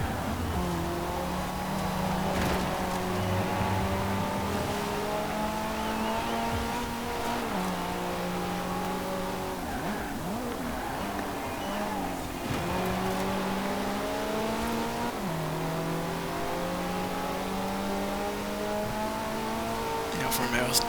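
Several race cars in Forza Horizon 4 roar together, their engines droning and shifting pitch through gear changes and revs in a continuous, close, busy mix, with someone talking over the noise.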